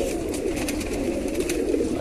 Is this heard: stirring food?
no